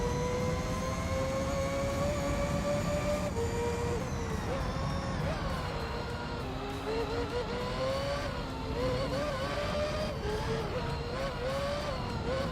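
Race cars, a Dodge Viper and a GT1 car, howl through the gears in Gran Turismo 3, a loud continuous engine drone with rising and shifting pitch as they pass, steady throughout with no talking.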